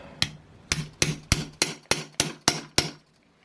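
Nine sharp metallic taps land at an even, steady pace, each a hard strike on metal with a brief ringing decay, close and alone.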